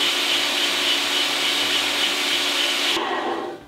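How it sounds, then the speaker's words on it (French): A motorized sausage stuffer pushes ground meat into casing for homemade garlic, spicy and blue cheese sausages, giving a steady loud mechanical whir with grinding texture that runs continuously, then cuts off near the end, leaving a faint fading rumble. "Le poussoir est en place. Maintenant, machine, on tourne."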